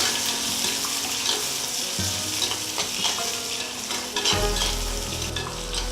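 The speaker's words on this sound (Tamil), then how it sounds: "நல்லா செவக்க வதக்கணும்." Small onions and green chillies sauté in hot oil for a Tamil fish curry, giving a steady close sizzle broken by scraping stirs and clinks, with low rumbling underneath and no voices.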